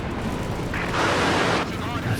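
Artillery barrage in the strategy game Company of Heroes 2, a dense roaring burst of explosions swelling for about a second amid continuous battle noise, with commentary talk running underneath.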